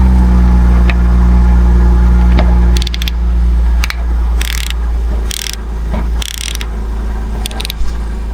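A 10 mm ratchet wrench works a bolt loose on the AC compressor of a 2007–2012 Acura MDX. Close, loud clicking bursts come in short runs over a low engine-bay hum.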